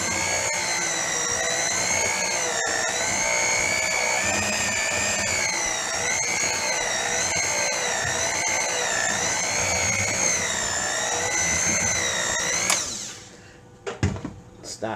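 An electric hand mixer whirs steadily through yellow cake batter with milk and vanilla, a loud continuous motor whine with a slightly wavering pitch that cuts off near the end, followed by a few clatters.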